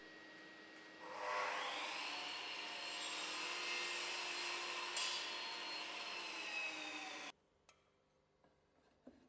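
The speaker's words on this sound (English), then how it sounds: "The process of marking a scribed 90-degree joint begins with an internal mitre cut on the chop saw." A chop saw slices an internal mitre through timber skirting board, the motor spinning up, whining loudly through a single cut of about six seconds, then winding down and stopping, followed by a few faint knocks.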